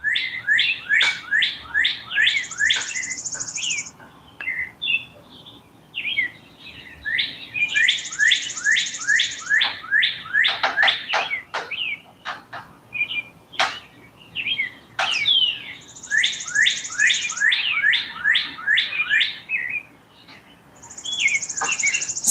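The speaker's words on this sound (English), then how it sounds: "The birds sing in the morning, and when they do, their voices, their song carries" Morning birdsong carries through crisp, cool air: a songbird repeats a bright, rapid run of chirping notes in regular bursts every few seconds, clear and fairly close, with softer calls filling the gaps and no talking.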